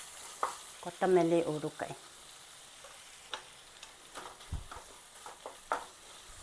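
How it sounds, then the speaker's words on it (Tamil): Tomato rice being stirred and mixed in a hot pan, with soft scraping and frying noises under a brief spoken remark, followed by quieter scattered stirring clicks. "நான் இப்போ மிக்ஸ் பண்ணேன்"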